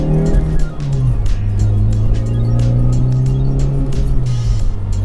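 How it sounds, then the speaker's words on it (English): A rowdy manual car with a mildly loud exhaust, heard while driving, engine note rising and falling through gear changes under steady road roar, close and prominent. "It's just a little rowdy car. The exhaust isn't really that loud."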